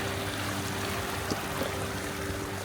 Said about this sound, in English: surrounded by a crystal clear meandering creek, giving us the soundtrack of moving water to relax to